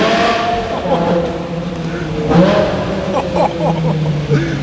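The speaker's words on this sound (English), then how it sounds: "it's time to cool on out, get some flybys. Let you guys hear the car." A straight-piped BMW M5 with a V10 engine roars past with shifting pitch as it rises and fades, continuous and harsh throughout.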